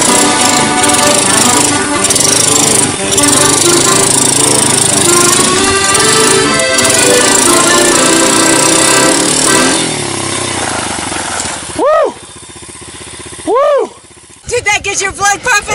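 A motorbike ridden out to an abandoned uranium mine: a loud, rough, continuous engine drone with a buzzing, hammering tone that later breaks up and cuts out, with sweeping passes near the end and talk underneath.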